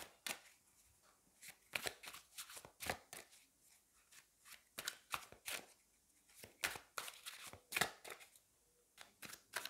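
Tarot cards being shuffled and drawn by hand: quick irregular flurries of crisp card slaps and riffles, close and fairly quiet, with short pauses between bursts.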